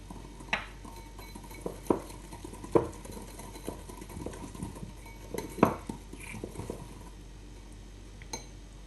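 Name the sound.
mixing lemon juice sugar glaze with small whisk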